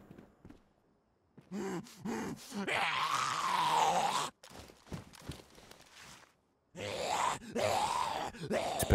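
A zombie in the video game DayZ gives long, drawn-out groans in two loud bursts separated by a quieter stretch, with soft thuds and short breathy sounds between them.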